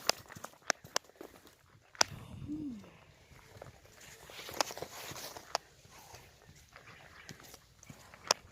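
Several dogs along a mountain road in Sierra Madre give short, sharp barks and yelps scattered through the stretch, fairly close, with a brief whine, footsteps and outdoor background noise.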